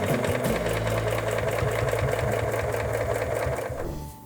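A sewing machine stitches in the ditch along a quilt seam joining Drunkard's Path blocks, running in a steady rapid rhythm close to the mic and stopping near the end.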